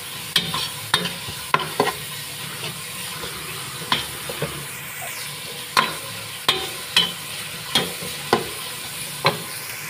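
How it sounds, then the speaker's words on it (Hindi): Onions frying in a pan until brown for a bhuna qeema recipe, a steady hiss of sizzling oil broken by a dozen sharp clinks and scrapes of a stirring spoon at irregular intervals, close and without talk. "अब हम प्याज को ब्राउन होने तक फ्राई करेंगे।"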